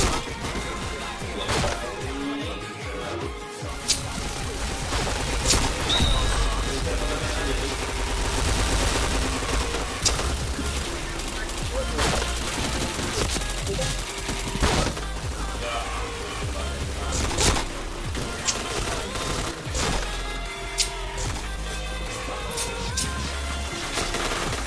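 Rapid gunfire bursts and single shots from the video game Point Blank ring out continuously, loud and dense, with a voice talking briefly between the shots.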